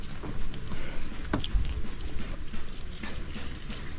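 Tap water runs into a basin for laundry, a continuous splashing, gurgling pour close by with no talking over it.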